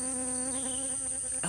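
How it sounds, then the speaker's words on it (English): A bee buzzes steadily and close among gourd blooms in a backyard garden, a sustained insect drone with a slight shift in pitch near the end. "oh, I hear a bee"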